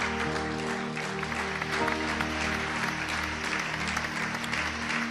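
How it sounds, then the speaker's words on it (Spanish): Church congregation applauding God during a Spanish-language worship service, steady dense clapping held throughout with sustained musical tones from instruments underneath. "Fuerte el aplauso para Dios"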